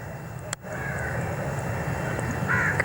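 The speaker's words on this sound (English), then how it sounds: "Those are domestic crows." Domestic crows in Pakistan caw a few times at a distance over a steady outdoor background, with a sharp knock near the start.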